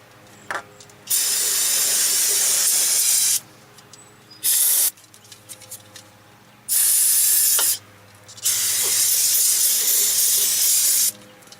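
Brake cleaner sprays onto a brake caliper in several loud, close hissing bursts, each lasting one to three seconds and separated by short pauses filled with faint clicks and handling noise.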